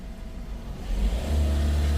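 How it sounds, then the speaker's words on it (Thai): A Ford Ranger MC engine with a faulty oil temperature sensor revs as the accelerator is pressed. The steady idle rises into a louder, deeper drone that holds near and constant, with no voices. "อันนี้เดี๋ยวเราจะลองเหยียบคันเร่งนะ"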